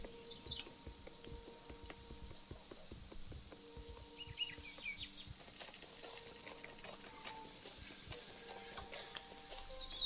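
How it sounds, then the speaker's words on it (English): Birds chirp in the video game Maid of Sker, faint high calls scattered across a steady ambient game soundscape with low rumbling and ticking textures. "Birds."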